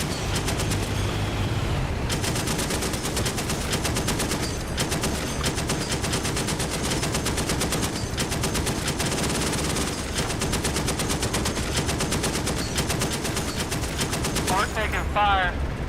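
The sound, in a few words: gunfire from a video game (DCS World)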